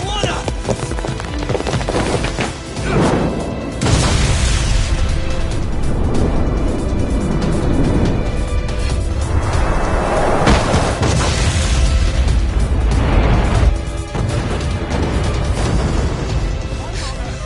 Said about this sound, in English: This ship just exploded!